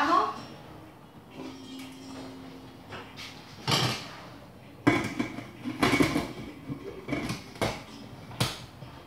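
A lid goes onto a pot, likely a pressure cooker, of simmering Córdoba-style oxtail stew, with several metallic clanks and scrapes at close range while a person talks.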